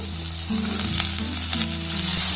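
Onion and beans frying in a pan, giving a close, loud steady sizzle with a few stirring scrapes over a couple of seconds.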